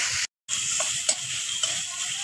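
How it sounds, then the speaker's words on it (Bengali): Ginger, cumin and garlic paste fries in a pan, a bright steady sizzle with a few stirring scrapes, briefly cut off by a short gap of silence. "এখানে আদা, জিরে আর রসুন বাটা আছে, আমি ভালো করে ভেজে নেব।"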